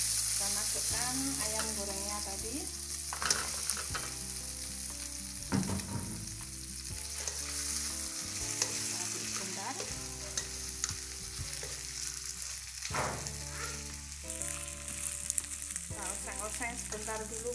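Fried chicken pieces and spice paste sizzle in a pan while being stirred, with a soft steady frying hiss broken by spatula scrapes and clanks, close by.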